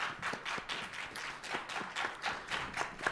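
Audience applause at the close of a student government election debate, steady rapid clapping from a fairly distant crowd, heard alone and quite faint.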